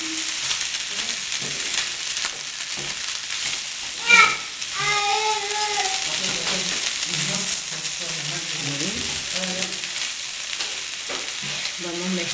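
Broad beans and corn frying with egg in a frying pan, a continuous hiss of sizzling with occasional stirring scrapes, while faint voices and someone speak in the background.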